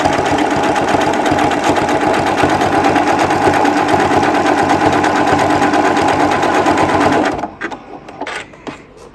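A sewing machine runs a triple zigzag stitch along quilt binding, a loud, fast, continuous mechanical whir for about seven seconds before stopping, followed by a few faint handling clicks.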